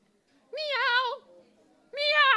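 A human voice imitates a cat meowing, mimicking a lonely house cat named Gizmo at a poetry night: two drawn-out, wavering meows, close and clear, separated by a short pause.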